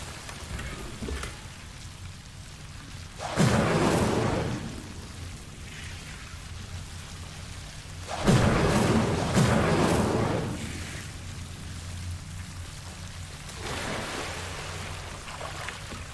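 Incendio fire spell cast in Hogwarts Legacy, three separate whooshing roars of flame rising and fading in waves over a quiet ambient background.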